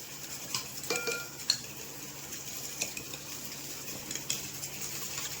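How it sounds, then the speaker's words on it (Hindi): A fork-spoon stirs and mixes something in a bowl, giving soft scraping sounds and a few brighter metallic clinks and taps against the bowl, quiet and close, with no talk. "चलिए विस्क मिल नहीं रहा इसलिए इस कांटे वाले स्पून से इसको मिक्स कर देते हैं अच्छे से।"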